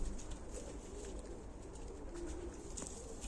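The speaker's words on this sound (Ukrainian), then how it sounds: "тут сидить три голуба" Three caged Ukrainian pigeons coo steadily and softly over a constant hiss of background noise, with several low, rolling calls overlapping.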